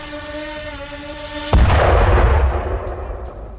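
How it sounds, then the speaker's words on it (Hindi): A humming drone-like tone is cut off by a sudden loud explosion from a drone attack, whose deep rumble slowly fades away. "ड्रोन अटैक के बाद जोरदार धमाका होता है और धमाके की आवाज भी सुनी जा सकती है"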